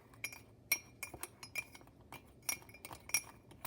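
Glass marbles stirred into a couple of teaspoons of baking soda, clinking in a quick irregular series of bright, close taps with no talk.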